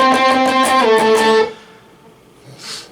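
Electric guitar playing a melodic octave-shape solo from a song, a run of bright sustained distorted notes for about a second and a half, then cut off into near silence with a faint trailing noise.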